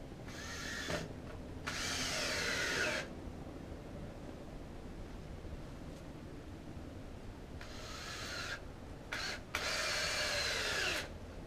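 A cordless power drill whirs in several bursts of a second or two each, separated by pauses and quieter handling noise, fairly close, while building an outdoor kitchen.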